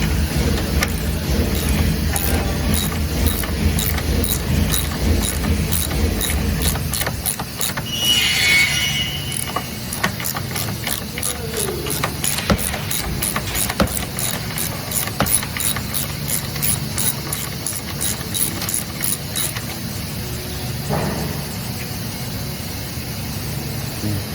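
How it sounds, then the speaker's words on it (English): A thread insert installer tool run through an insert in a Mercedes control arm bracket during a broken-bolt repair, giving close mechanical ratcheting and creaking clicks in a steady series over low engine-like rumble. "Run the installer through the insert, opens up the body threads of the insert."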